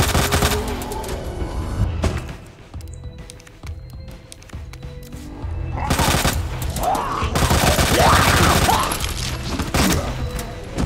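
Bursts of rapid gunfire in Resident Evil 2 Remake come in heavy volleys with pauses between them, loud and close, with scattered impacts and background action sounds.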